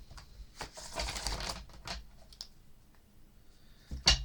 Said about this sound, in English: let's shuffle these cards one more time